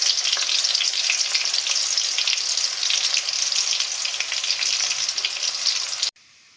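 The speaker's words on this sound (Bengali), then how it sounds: "পেঁয়াজটাকে আমি হালকা বাদামি কালার করে ভেজে নেব।" Chopped onions frying in a pan for an egg curry, a steady close hiss of sizzling oil with faint stirring that holds for about six seconds before cutting off abruptly.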